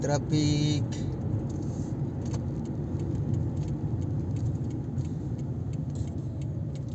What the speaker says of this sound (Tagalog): Guys, grabe ang traffic na dinaanan natin.